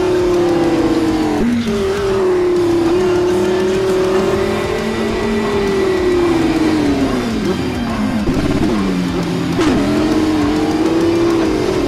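A Lamborghini Huracan engine revs loudly and close, its pitch rising and falling in sustained sweeps across the whole stretch, with a couple of sharp blips where the revs jump.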